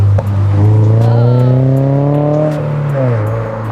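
A 2022 Toyota GR86 with a Greddy Evo GT catback exhaust rumbles steadily from outside the vehicle, a deep droning engine note that rises slightly and then eases off near the end.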